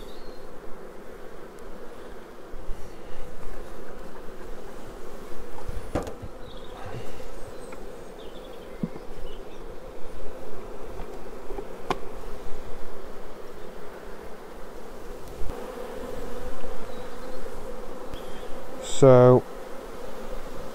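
Honeybees buzz steadily around an open hive frame of freshly drawn foundation holding eggs and larvae, a close, continuous drone with a brief louder burst near the end as bees are shaken off.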